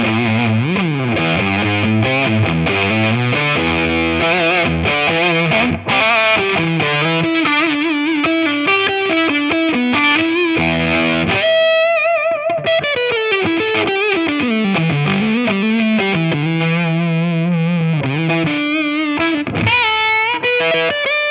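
Electric guitar played through Boss Waza fuzz pedals such as the TB-2w, FZ-1w and FZ-5, giving thick, saturated fuzz tones in a continuous run of riffs and sustained notes, loud and close with no voices.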